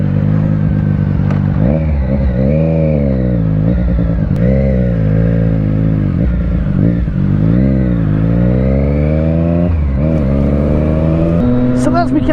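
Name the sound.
motorcycle riding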